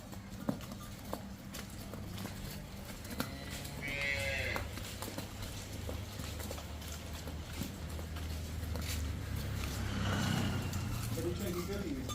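Cattle low at close range with deep, drawn-out calls over a busy farmyard, with hooves and shuffling animals around and people talking in the background.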